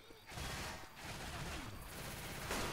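In Left 4 Dead 2, NPC allies fire at zombies in fairly faint, rapid bursts of gunfire that run through the whole stretch, with a brief voice now and then.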